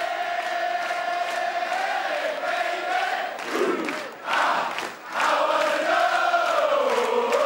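Darts crowd at the Lakeside 2013 world championship final applauding the losing finalist, a loud sustained wall of cheering, singing and chanting that swells and briefly dips midway.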